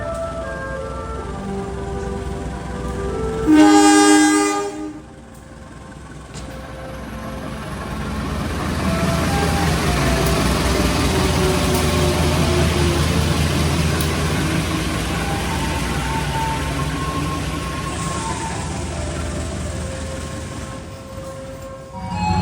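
The Erlangga passenger train rolls into Surabaya Pasar Turi station with a steady low rumble and rising, fading noise, a horn blaring briefly near the start, heard from close by.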